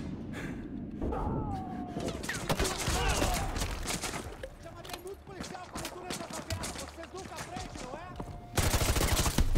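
Gunfire in the Call of Duty Modern Warfare 2 Campaign Remastered video game, a dense run of rapid shots and bursts across the whole stretch with explosions and voices shouting over the battle.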